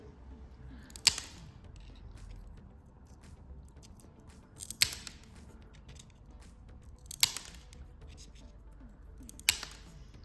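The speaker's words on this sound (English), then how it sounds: "So I take the side biters and I place the blade across the tile where I want the cut to be" Side biters snap through mosaic tile in four sharp, crisp cracks spaced a few seconds apart, each a close, bright click standing out against a quiet background.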